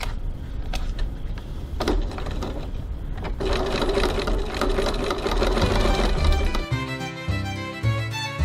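A sewing machine runs in bursts as it stitches a crossbody bag strap, stopping and restarting with steady mechanical whirring, clicks and brief handling noises between runs, loud and close.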